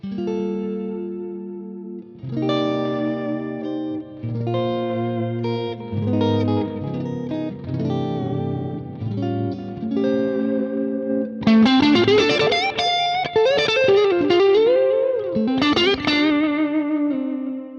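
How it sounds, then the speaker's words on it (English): An electric guitar plays through two chained Electro-Harmonix Deluxe Memory Man echo delays, with layered repeats and a chorus-like shimmer on melodic notes. Brighter bending lead phrases follow later, heard alone with no talk. "we actually have two Deluxe Memory Man echoes chained together"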